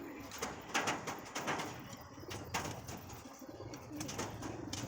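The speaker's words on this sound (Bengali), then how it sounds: "পায়রা আছে খুব সুন্দর পায়রা দেখো এটা নর পায়রা" Tame Madras high-flyer pigeons with clipped wings coo nearby in quick, repeated throaty pulses that overlap into a near-continuous burbling chorus.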